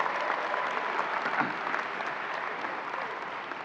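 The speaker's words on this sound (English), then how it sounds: "You're going to get an applause at every line there." A crowd applauds steadily at a university undergraduate commencement, a dense wash of clapping that holds at an even level throughout.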